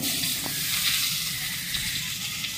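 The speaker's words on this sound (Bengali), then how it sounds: "এই আলুগুলোকে ওই তেলের মধ্যে দিয়ে ভালো করে লাল লাল করে ভেজে নেব" Small potato pieces fry in hot oil with a dense, steady hiss and crackle, close and fairly loud. A few faint stirring taps sound, and no one talks.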